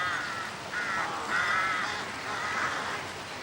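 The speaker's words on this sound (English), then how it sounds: "Carrion crows. They've earned their name." Carrion crows cawing outdoors near a bridge in open country, a few harsh drawn-out calls in a loose series, moderately distant over a soft background hiss.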